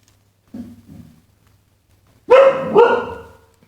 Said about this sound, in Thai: ก็มีเสียงรบกวนที่หนึ่งนะครับ เป็นหมาแล้วบ้านนะครับทุกคน